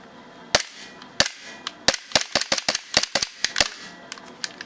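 KWA ATP gas blowback airsoft pistol firing a rapid string of sharp, loud snapping shots, about fifteen in quick irregular succession, close up with no talk.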